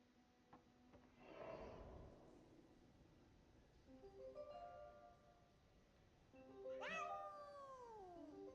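A cat trapped underground in a video game meows several times. The cries are faint and drawn out, one ending in a rising then falling wail, over quiet game ambience and a little breathy noise.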